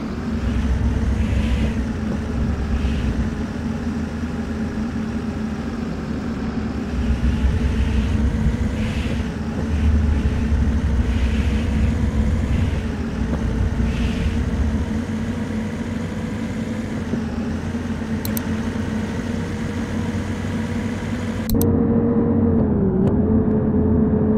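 Bus engine running steadily in Bus Simulator Ultimate, with a Marcopolo coach driving in India, a continuous mid-pitched motor drone with slight swells as it moves, no speech, ending in a brief shift near the end.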